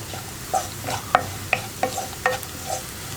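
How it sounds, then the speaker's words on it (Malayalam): Spice powders being stirred in oil in a pan for a brinjal curry, a spoon scraping in five or six distinct strokes over a soft sizzle, close and moderately loud, no voices. "ഇനി കൈയെടുക്കാതെ ഇളക്കുക"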